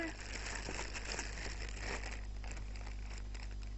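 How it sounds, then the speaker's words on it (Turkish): A plastic shopping bag from the Diyanar shop, holding a game box, is handled and rustled up close, with steady crinkling and crackling throughout under a constant low hum. "gördüğünüz gibi elimde bir Diyanar poşeti var"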